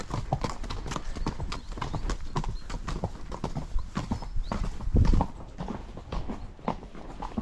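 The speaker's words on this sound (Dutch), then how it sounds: "kijk, die zijn ook leuk, die paardjes." Friesian horses clip-clop steadily on a forest path, their hoofbeats close and rhythmic, with a few soft voices in the background and a brief louder thump near the end.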